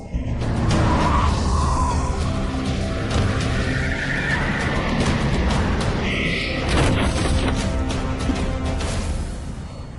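Car tires skid loudly on pavement as a vehicle swerves and nearly hits a pedestrian, a sustained harsh screech with engine noise and brief crashing bursts filling the whole stretch.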